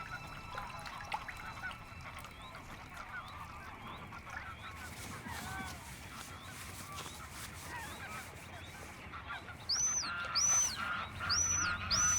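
Geese in Dutch wetland honk near and far, scattered calls over a soft outdoor background, with a louder run of repeated sharp honks near the end.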